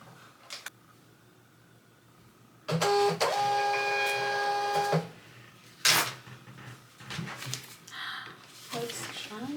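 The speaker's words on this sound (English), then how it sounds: "we're gonna try and print that on my thermal printer, which I use for shipping labels" A thermal shipping-label printer runs for about two seconds with a steady, close mechanical whir and whine, followed by clicks and handling noises, in a quiet indoor room.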